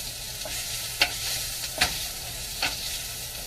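Onions caramelizing in a pan give a soft, steady sizzle with a few sharp scrapes of stirring spaced about a second apart, quiet and close with no talking.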